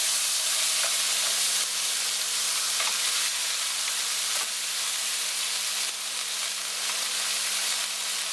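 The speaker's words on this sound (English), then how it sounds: "After that, we're going to add the onion and garlic." Onion and garlic fry in a pan over medium heat, giving a loud, continuous sizzle with a steamy hiss and no talking.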